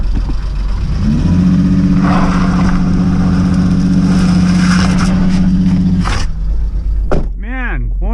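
A Dodge Magnum's engine revs hard in a sustained, loud, steady drone for about five seconds during a failed burnout attempt, then cuts off abruptly, followed by a brief warbling tone.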